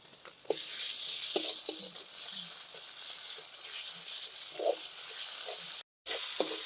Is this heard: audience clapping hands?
no